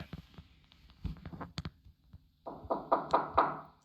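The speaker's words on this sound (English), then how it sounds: "The moment he hears the creepy knocking noises coming at the door" Creepy knocking at a door in a scary video, a scattering of dull taps followed by a louder run of four or five firm knocks, close and with no voices.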